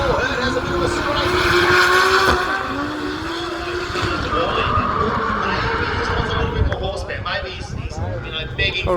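Drift cars sliding at a drift festival, engines roaring at high revs with tire squeal blending into a loud continuous drone, heard at moderate distance under a commentator's voice over a public address.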